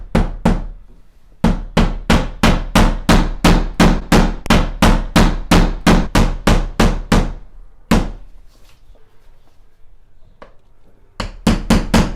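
Hammer driving finishing nails into a wainscoting panel, a long run of loud, evenly spaced sharp blows, a pause, then a few more strikes close by.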